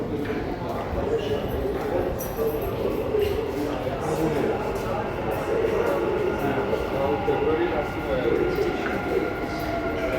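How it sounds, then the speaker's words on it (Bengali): A Dubai Metro train runs with a steady, continuous rumble and rattle, with indistinct voices murmuring in the carriage. "এখানে মেট্রোর মধ্যে"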